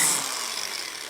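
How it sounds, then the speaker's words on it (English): Scraping of a butter knife edge along a motorcycle engine case during a Harley shovelhead stroker rebuild, a continuous gritty hiss lasting about a second, close up and steady with no talk. "deburring with the butter knife"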